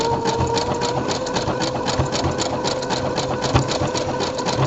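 A sewing machine runs steadily at a slow pace, topstitching decoratively along a serger seam with a continuous loud rhythmic whir and needle chatter throughout.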